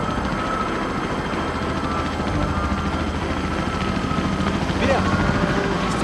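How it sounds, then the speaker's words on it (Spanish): A helicopter flying overhead, a loud steady rotor and engine roar that holds throughout and swells slightly toward the end, with people talking underneath. "¿Es un helicóptero, no? Sí, un helicóptero."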